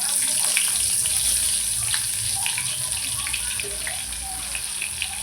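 Bitter gourd stuffed with spice filling slips into hot oil, setting off a steady, close, fairly loud sizzle and crackle that holds throughout without pause.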